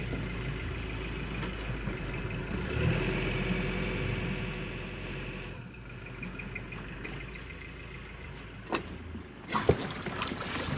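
A sailboat's inboard engine idles steadily in forward gear with the propeller turning, giving a continuous low, chugging drone close by, broken near the end by a few sharp knocks and clanks.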